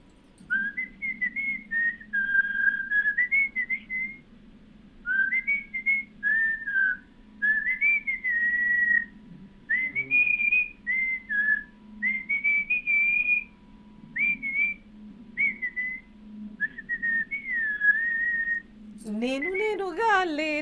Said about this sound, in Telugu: నేను ఒక సాంగ్ పాడతాను, కాకపోతే విజిల్ తో సాంగ్ పాడతాను.